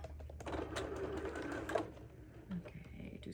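Sewing machine stitching black pet screen mesh with black thread, a soft rapid mechanical whir running steadily under quiet talk before it slows and stops.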